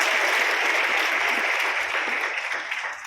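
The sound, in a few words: applause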